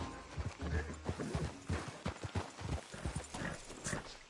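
Rapid hoofbeats clip-clop in an uneven galloping rhythm during a video game horse race on PS4, with a brief horse whinny mixed in, fairly close and steady throughout.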